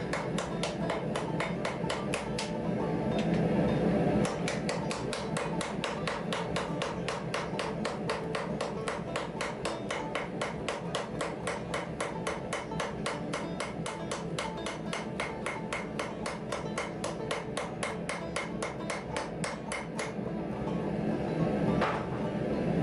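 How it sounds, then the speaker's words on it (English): Steady, rapid metallic ball peen hammer blows ring out one after another, flattening hot 5160 leaf-spring steel into knife bar stock, a close, regular pounding rhythm that continues without pause. "start flattening it a little bit with the ball peen side"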